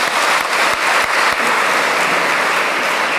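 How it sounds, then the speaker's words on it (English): Audience at a question-and-answer session after a lecture by a priest giving a loud, steady round of applause, dense clapping close and continuous with no talk. "please give a hand of applause"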